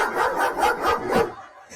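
A dog barks in a quick series of sharp yaps, close and fairly loud, ending with a short pause and one more bark.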